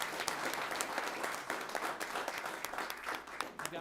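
A city council audience in Fountain gives a sustained round of applause, with dense, steady clapping from many hands filling the room at moderate loudness and no gaps.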